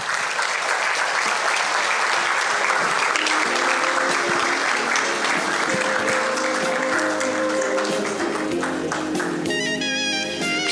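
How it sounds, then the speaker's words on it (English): Crowd at a legacy and leadership lecture applauding as the honoree walks up to the stage, loud sustained clapping throughout, with music and scattered voices rising under it toward the end. "Please let's sustain the applause until he gets on stage."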